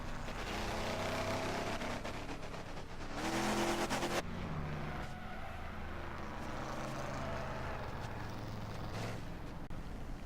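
A damaged race car engine roars continuously and loudly in speedway racing, its pitch shifting, with a harsh burst of mechanical noise partway through and tire noise underneath.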